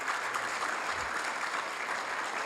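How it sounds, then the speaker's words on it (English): A crowd at a community volunteer awards event in Hayward claps steadily, a sustained wash of applause from a moderately distant audience. "let's give her a huge round of applause"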